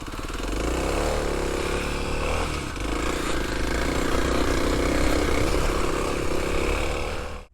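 A Kawasaki KLX300 dual sport motorcycle engine idles close by, holding a loud, steady running drone with a slight dip and recovery midway.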